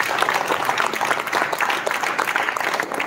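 Audience at a Buddhist discussion gathering applauds steadily and fairly loudly, a dense continuous patter of many hands clapping throughout with no speech over it.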